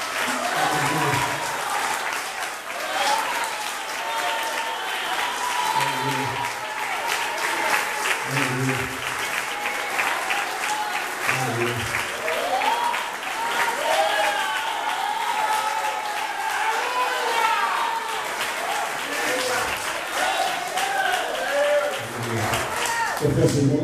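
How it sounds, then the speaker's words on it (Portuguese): A church congregation applauds steadily during a worship service, a dense sustained clapping that holds for the whole stretch, with scattered shouts and voices mixed in underneath. "Quem pode aplaudir o Senhor para essa bênção?"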